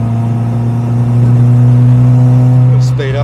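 A TFSI-engined Caddy van accelerates on the road, its engine drone rising steadily and loud from inside the cabin before easing off near the end.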